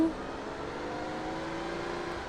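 A car drives in the video game UA Online, a steady quiet engine drone holding an even pitch with no clear revving, continuous and alone.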